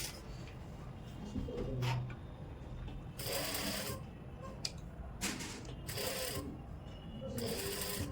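Sewing machine stitching frill lace onto a dupatta, running in several quick bursts of rapid clattering needle strokes separated by short pauses, close and fairly quiet.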